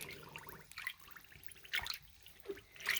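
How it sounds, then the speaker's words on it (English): Water being gently poured over an item to soak it through, with soft trickling and a few distinct drips and splashes spaced through the quiet stretch. "So I'm just going through and kind of gently saturating this in the water."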